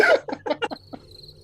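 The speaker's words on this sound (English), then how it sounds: "I'm going to insert crickets." Inserted cricket chirping sound effect: a short series of about six rhythmic chirps, loud and close, ending with a thin high sustained tone, with no talk.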